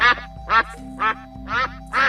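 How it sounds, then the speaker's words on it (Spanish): A duck quacks five times in a steady, evenly spaced rhythm, each call loud, nasal and close, with a faint background hum between quacks and no one talking. "Ese sonido lo realiza un pato"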